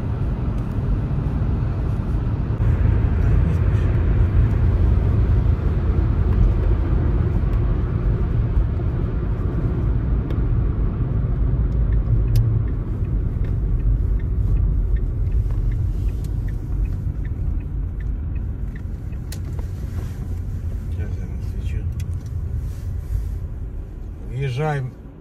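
A car travels a long road through the Dnipropetrovsk region, a steady low engine and tyre rumble with road noise that holds throughout and eases slightly toward the end, with a brief clatter at the close.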